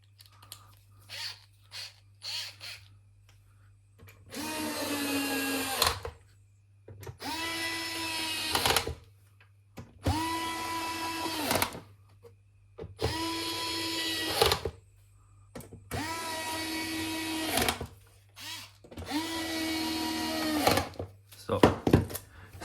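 Six or seven separate whirring runs of a powered T10 Torx driver on the screws of an Xbox One S, each lasting one to two seconds and split by short quiet gaps, with lighter clicks and handling sounds at the start.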